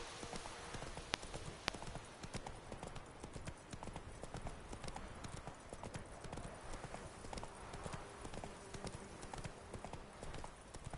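Roach the horse trotting in The Witcher 3, a steady, quick patter of hoof clip-clops that continues evenly throughout, faint and low in level with a couple of sharper knocks.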